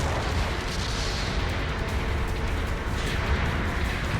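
Gunfire in a shooting video game, heard as a steady, loud, dense wall of shots and rumbling blasts with no clear gaps.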